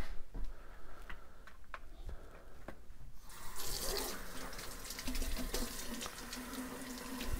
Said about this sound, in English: to run some water through it